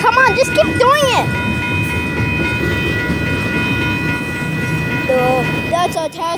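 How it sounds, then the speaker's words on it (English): A Union Pacific test train passes at El Paso, a steady loud rumble of rail noise filling the whole stretch, with high whistle-like tones early on and people talking over it. "That's a test train."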